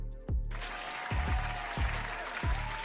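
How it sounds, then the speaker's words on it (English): A podcast audience greets a guest stepping onto the stage with a burst of applause, steady clapping under a few deep thuds and a faint hum. "I'm gonna give a big clap here too"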